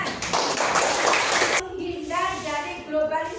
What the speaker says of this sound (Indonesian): Oke, terima kasih, tepuk tangan.